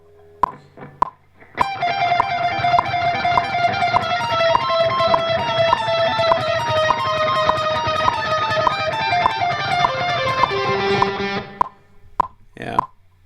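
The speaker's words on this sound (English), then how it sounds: "So with the delay, I'm going to put on a metronome to help with the timing." Electric guitar plays a blues lick through a delay effect, the notes smearing into sustained repeats over a faint ticking metronome, with a few soft clicks before and after the playing.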